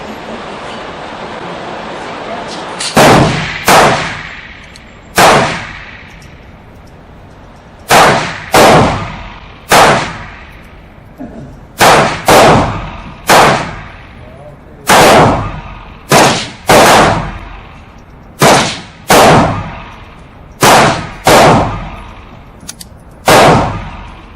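A series of .22LR handguns, a Walther P22, a GSG Firefly, a Phoenix Arms PH22 and a Ruger, fire at a target seven yards away, producing about eighteen loud, sharp shots in irregular bursts, each with a short echo tail.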